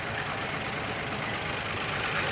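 A 2002 Lexus IS 300 with its 2JZ-GE inline-six running rough, misfiring on cylinders 1 and 6 from a broken tooth on the crankshaft timing gear, a steady close engine noise with no talking.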